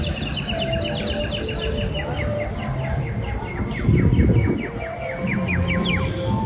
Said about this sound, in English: Sound of birds, so annoying.